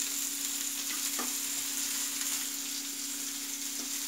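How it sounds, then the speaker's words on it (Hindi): Bitter gourd frying in mustard oil, giving a steady, close hiss and crackle of sizzling that holds evenly throughout with only faint pops rising above it. "तलने के लिए सरसों के तेल में सभी को हम तल देंगे"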